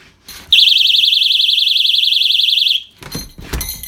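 A GE door-stop alarm gives a loud, piercing warbling wail steadily for a couple of seconds, then cuts off, followed by clattering handling noises.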